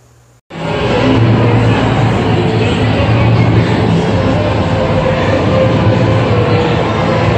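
A loud, steady rumble of a train in motion starts abruptly after a brief quiet moment and continues without letting up.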